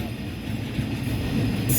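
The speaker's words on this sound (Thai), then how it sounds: "ก็เห็นเห็นรถไฟเขากำลัง ถอยหลังพอดีเลย" A train backs slowly along a railway line where track maintenance work is going on, giving a steady, fairly close low rumble that holds through the whole moment with faint higher rail noise.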